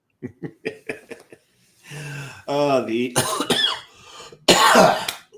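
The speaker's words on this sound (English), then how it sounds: "I'm surprised the coughing didn't turn the Christmas tree off." A run of short, sharp coughs comes in a quick burst, then gives way to longer rough, throaty bursts that could be heavier coughing or laughter, close to the listener.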